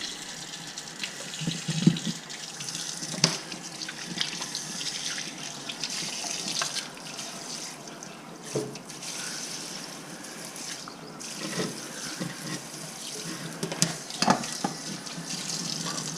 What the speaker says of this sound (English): Then, wash my hands again.